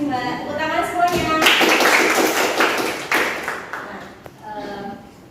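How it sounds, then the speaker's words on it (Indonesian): Students in a small micro-teaching classroom give a short round of clapping, a few seconds of dense, close hand slaps, with a teacher talking just before and after it. "terima kasih mbak, tepuk tangan semuanya"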